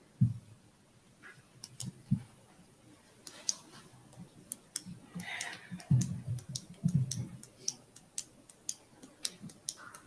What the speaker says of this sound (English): is someone clicking a pen?